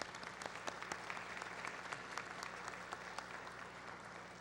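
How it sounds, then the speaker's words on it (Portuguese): Steady applause from an audience at a solemn Victory Day session honoring the Brazilian Expeditionary Force fills the room, with dense, even clapping that sounds fairly distant and quiet, and no voices over it. "eu convoco a todos agora para dar uma forte salva de palmas à nossa Força Expedicionária Brasileira"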